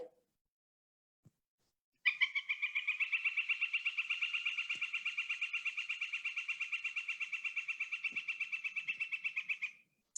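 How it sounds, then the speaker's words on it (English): A rapid, even series of loud, ringing wick-wick-wick notes from a northern flicker, continuing steadily for several seconds after a brief quiet start. "A flicker, here's what a flicker sounds like."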